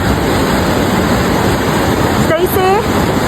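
Rushing water roars steadily at McCloud River Falls, a broad constant hiss close by, with a brief voice and a short whistle-like sound cutting through near the end.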